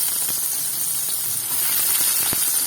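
Small shallots and big onions sizzle in hot oil in a pan while oats upma is cooked, giving a steady, loud, continuous hiss with faint clicks of stirring.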